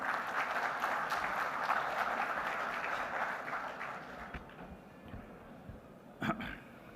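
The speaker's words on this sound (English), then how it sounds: "Can I hear a round of applause," Applause from the audience at a maritime event, a moderate, distant wash of clapping that gradually thins and fades, ending with a brief louder bump of sound.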